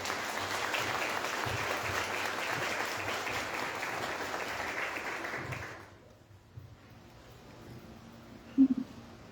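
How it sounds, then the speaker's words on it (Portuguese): Congregation at a Catholic Mass honoring Our Lady of Graces gives a round of applause, steady dense clapping for about six seconds that stops abruptly, followed by a quiet room with a few faint knocks. "Uma salva de palmas."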